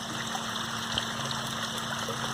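Water runs from a pipe into a spring-fed koi pond, a steady close trickle and splash under a constant low hum from the running air pump.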